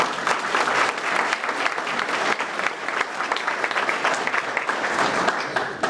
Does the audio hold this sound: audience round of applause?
yes